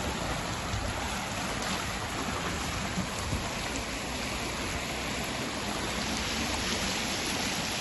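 Floodwater rushes in a steady, hissing broadband flow in Jalandhar, Punjab, faint and continuous throughout with no other sounds standing out.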